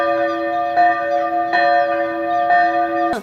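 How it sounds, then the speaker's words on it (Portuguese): A church bell at the Igreja Matriz São Paulo Apóstolo rings on a Sunday morning to call people to 8:30 mass, with clear repeated strokes under a long ringing tone, loud and close, with no voices. "Igreja Matriz São Paulo Apóstolo no domingo, tocando o sino para a missa das 8h30 da manhã"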